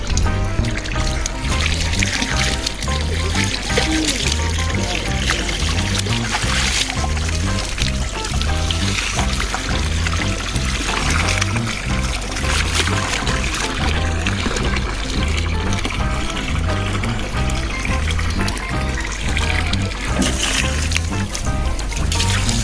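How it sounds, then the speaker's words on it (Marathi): Borewell water pours out steadily from a running pump, a loud continuous gush with a faint rhythmic pulse throughout. "बोर चालू केलंय आणि बोरचं पाणी आहे."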